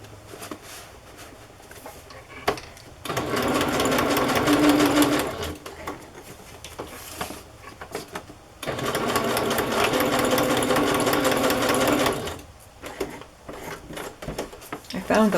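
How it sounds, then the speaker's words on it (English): A sewing machine stitching a flea-market card onto the back of a handmade Little Golden Book journal in two rapid, steady runs of needle chatter, with quiet handling noises between them. "I am sewing a little card or something to the back. I have this Montana card. I'm going to sew that."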